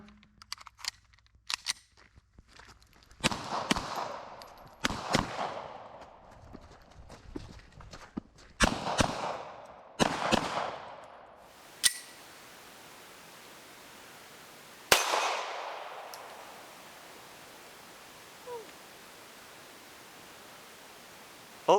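Beretta M9A4 pistol fired at steel targets 10 to 25 yards out on an outdoor range, a series of sharp, loud reports spaced irregularly, some with faint metallic pings after, followed by quiet.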